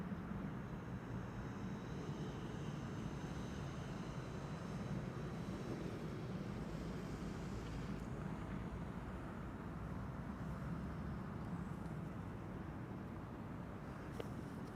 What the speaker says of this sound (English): wide body passing by right before me, close to the zenith.